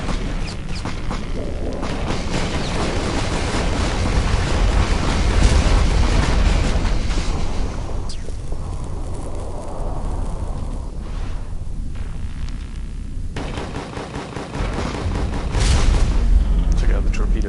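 Enemy carrier ship blowing up in the space combat game Starfarer: heavy booming explosions and rumbling blasts roll on and off across the stretch, with someone talking over parts of it.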